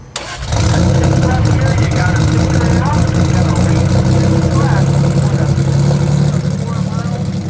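A 2500hp Toyota Supra engine turns over and catches, then settles into a loud, steady running rumble that continues close by with faint talk underneath.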